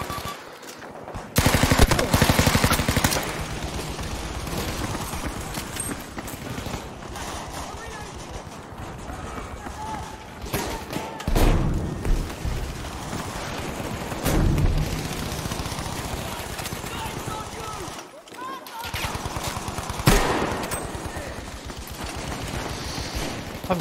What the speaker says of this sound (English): I'm just hip firing this